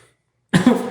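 A single harsh cough close to the microphone after vaping, short and loud, following a second of near silence.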